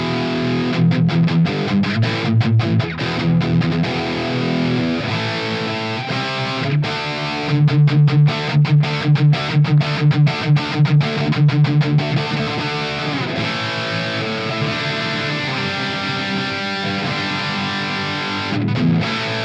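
Ibanez RG970WQMZ electric guitar played through heavy distortion on the bridge pickup, loud sustained chords with bursts of choppy palm-muted riffing and sharp stops, no voices.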